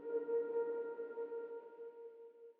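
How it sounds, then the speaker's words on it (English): A fully reverbed piano tone from a synth-style soundtrack sustains as one soft, smooth note that rings and slowly fades, with no other sounds. "I use this fully reverbed piano sound."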